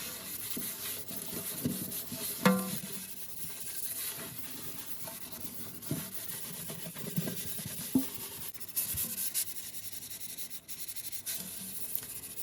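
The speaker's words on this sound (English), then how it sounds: "with your kitchen sponge, you will gently clean the walls of the sink" A kitchen sponge rubs and scrubs the walls of a kitchen sink in quiet, close strokes with irregular scratchy swishes and occasional soft knocks, no voices.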